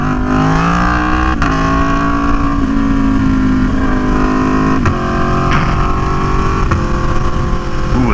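Aprilia Tuono V4 1100 Factory motorcycle riding, loud continuous engine drone with shifting pitch and a few quick exhaust pops, close and steady with wind noise.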